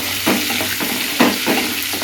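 Tomatoes sauté in a pan for a chutney, a constant sizzle broken by two distinct stirring scrapes of a spatula, heard up close with no talking.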